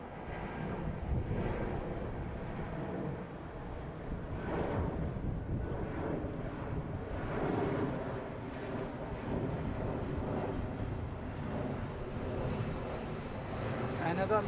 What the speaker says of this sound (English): two Airbus 330 missed approach